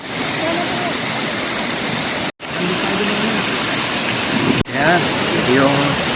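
Tanawan Falls in Dingalan roars as a steady, loud wash of falling water and river flow, broad and constant, with two brief dropouts and faint voices underneath.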